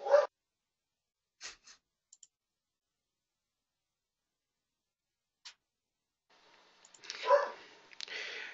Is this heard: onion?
no